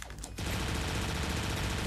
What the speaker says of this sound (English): Whoa, machine gun Wario.